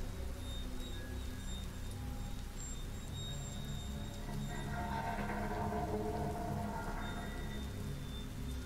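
Pouring rain in a video game, a steady, dense hiss of heavy rainfall that continues unbroken throughout, with a faint low rumble underneath.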